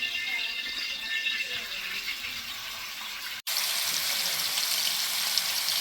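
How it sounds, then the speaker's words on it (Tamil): Anchovies fry in hot oil beside prawns, giving a steady hiss and crackle that breaks off briefly and then returns louder and brighter. "இந்த பக்கம் நம்ம வந்து நெத்திலியை ஃப்ரை பண்ண போகிறோம்."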